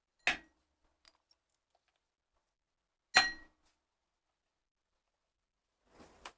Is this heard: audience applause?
no